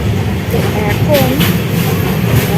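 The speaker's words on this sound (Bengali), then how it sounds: "ট্রেনটা চলেছে ছোটনাথ মালভূমি অঞ্চলের মধ্যে" A passenger train runs through the Chota Nagpur plateau, a loud continuous rumble and rattle from inside the carriage, with people talking over it.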